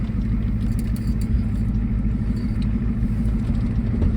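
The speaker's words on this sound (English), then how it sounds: "Let's take her up the road a mile." A 1980s Ford F250 diesel pickup drives along the road with a steady low rumble from its engine, close and constant, with faint rattles on top.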